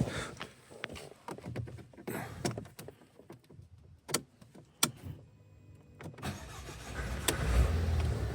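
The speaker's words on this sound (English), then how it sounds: "Now we're gonna try to start this car," A fire-damaged Mercedes diesel car being cranked and started after glow plug repair, with clicks and door or window noises, then repeated starter bursts and the engine catching and rising toward the end.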